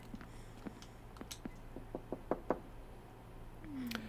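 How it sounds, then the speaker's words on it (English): Knocking on a door in the video game Becrowned: a series of sharp, separate raps, several single knocks spread out and then a tight cluster of louder ones, over a steady low hum. "Stop banging on the door or I will have to call the police."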